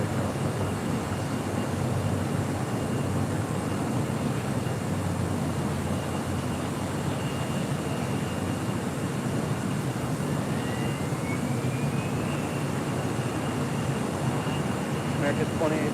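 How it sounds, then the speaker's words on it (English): An Air France airliner departs LAX from the south side, its engines a steady broad roar that holds for the whole stretch at moderate distance. "Very rare Southside departure for Air France"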